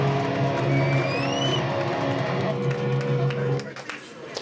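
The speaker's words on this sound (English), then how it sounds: "Give yourselves a round of applause right fucking now." Concert crowd at a metal show in a Paris club keeps up sustained applause and cheering, a dense roar that holds loud and steady before thinning near the end.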